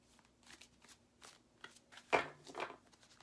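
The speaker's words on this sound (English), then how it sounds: "One more shuffle" Tarot cards are shuffled in a series of quiet riffles and flicks, with a sharper, louder burst near the end.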